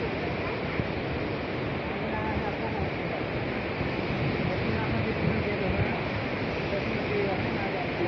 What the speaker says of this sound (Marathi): मित्रांनो भिवटा धबधबा बघायला आलोय